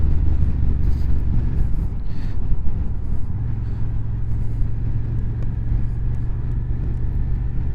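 A Suzuki motorcycle carrying a tank bag, ridden on the road, gives a steady, loud low engine and road rumble with constant wind noise across the whole stretch and no speech.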